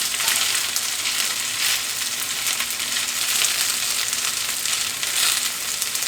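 A pancake cooks on a griddle over medium heat, giving off a loud, continuous, even sizzle with soft crackling throughout and no voices.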